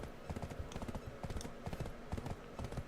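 Horse hooves clip-clop in a steady, repeated rhythm in the Black Desert Online video game, with a soft voice faintly underneath.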